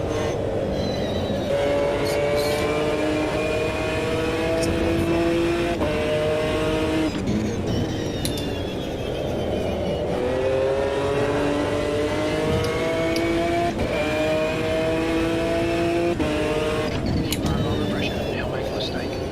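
GT1 race cars lapping Watkins Glen in the racing sim Automobilista 2, engines loud and continuous, pitch climbing through each gear and dropping at the shifts, repeating in waves throughout.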